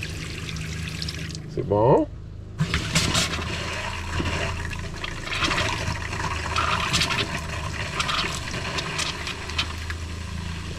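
Water running from an opened valve into a travel trailer's plumbing during winterizing, a steady rushing flow that continues under brief talk, close by.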